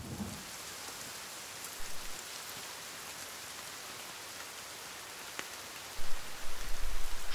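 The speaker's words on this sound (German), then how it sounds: "Ah, Regen. Regen ist gut." Rain falls steadily in the survival video game The Forest, a constant hiss of drops on surfaces with a few faint distant rumbles and a louder low thump near the end.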